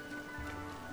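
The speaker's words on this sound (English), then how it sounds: "Rain." Steady rainfall in The Legend of Zelda: Tears of the Kingdom, near the ruins of Kakariko Village, a constant soft hiss of drops layered over faint sustained musical tones.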